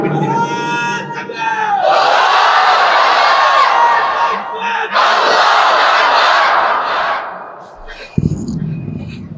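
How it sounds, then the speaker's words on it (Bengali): Crowd at a religious sermon shouting the takbir, loud massed voices calling out together in two long surging rounds, then trailing off into quieter sound. "মাশাআল্লাহ, ওনার তাকবীরটা একেবারে স্পিডের সাথে হচ্ছে"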